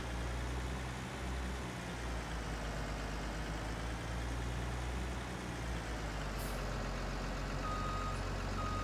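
A wheel loader drives back and forth over a silage pile in Farming Simulator 19, a steady low diesel engine drone with faint high beeps, constant and moderately quiet.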